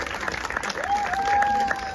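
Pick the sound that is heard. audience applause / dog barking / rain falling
audience applause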